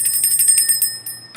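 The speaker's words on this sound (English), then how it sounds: "Where's my bell?" A small hand bell rings in a quick series of bright, high chimes, loud and close, then stops briefly before one last ring.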